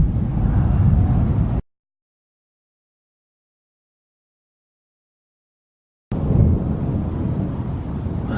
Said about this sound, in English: I'm hearing more thunder.